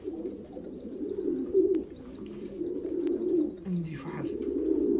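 Pigeons cooing in a loft, repeated soft low coos layered with higher chirping calls, close and continuous over a murmuring background.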